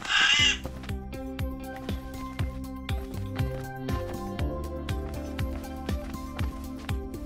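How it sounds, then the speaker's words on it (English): A scarlet macaw gives a single loud, harsh squawk at the very start, followed by rhythmic background music with plucked, bouncing notes. "A scarlet macaw!"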